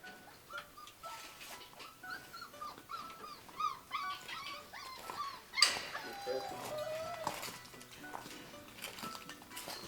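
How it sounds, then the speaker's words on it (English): Young puppies whimpering and yipping in short, high-pitched bursts, fairly close, with a person speaking quietly at times. "Some of the puppies."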